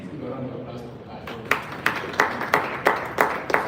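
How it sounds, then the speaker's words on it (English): A light round of applause at a live wellness-business event: a handful of sparse, distinct claps that start after a pause and sound fairly soft and not far off, under a steady murmur of voices. "Let's give a round of applause for that."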